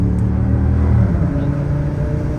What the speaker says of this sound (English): Audi S8 with the V10 on it